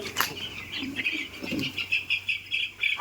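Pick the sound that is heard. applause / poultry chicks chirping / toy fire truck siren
poultry chicks chirping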